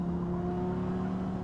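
A Lamborghini Temerario engine in Gran Turismo 7 holds a steady high-pitched drone, loud and close, with a constant tone and no talking.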